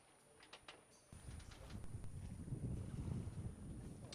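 A sailboat runs downwind under mainsail alone off Corsica, giving steady rushing water and wind noise that grows louder and fuller after the first second and then continues without a break.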